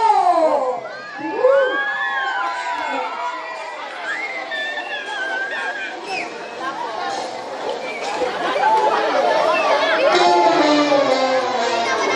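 A crowd of alumni, students and guests at a school foundation day homecoming shouts and cheers, with high children's voices among the loud, continuous hubbub that builds toward the end.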